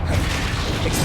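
A spell explosion in the video game Hogwarts Legacy, heard as a brief, dense burst of crashing rumble and hiss lasting about a second.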